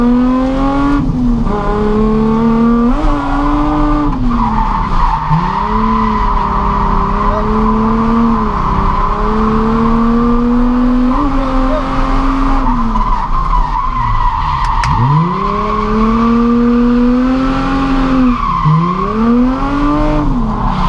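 A drift car at a Driftcup 2018 round at Teesside roars loudly and continuously, its engine rising and falling as it revs hard, with tyres squealing throughout.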